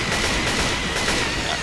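Dense, continuous gunfire from a firefight in the zombie shooter Left 4 Dead 2, a sustained rattle of overlapping shots at steady high loudness with no pauses.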